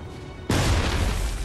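A cannon blast at the Battle of Bunker Hill in Assassin's Creed III, a sudden loud boom hitting after a half-second of quieter game ambience and rumbling on as a thick roar.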